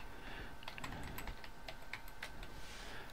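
Password being typed on a computer keyboard, a run of soft, quick key clicks over a steady low background hum, close but quiet, with no speech.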